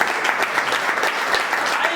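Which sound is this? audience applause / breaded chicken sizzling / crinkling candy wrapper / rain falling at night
audience applause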